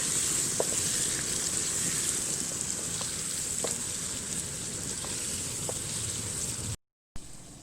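Whole green chillies fry in a village-style aloo gobhi curry, giving a steady, bright sizzle with scattered soft pops throughout, broken by a short silent dropout near the end.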